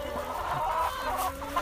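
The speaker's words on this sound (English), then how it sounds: "So there's the laying hens." Laying hens cluck steadily at close range, a dense flock sound of overlapping clucks with no talking.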